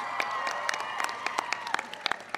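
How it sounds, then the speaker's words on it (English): Audience applause honoring John at a White House stargazing event with students, with a steady wash of clapping and scattered sharp individual claps throughout, moderately loud and continuous. "So give John a big round of applause."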